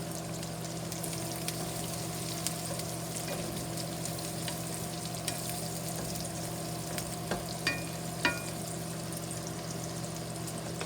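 Bacon and onion fry together in a pan, a steady close sizzle with faint crackles and a few brief clinks of stirring over a constant low hum.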